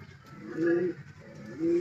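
Racing pigeons at a derby in Santiago, Isabela coo close by in two soft, throaty phrases, the second following after a brief pause.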